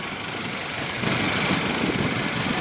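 A 2015 Honda Civic with a 1.8 L four-cylinder engine idles steadily just after start-up, a continuous, even rumble with no voices.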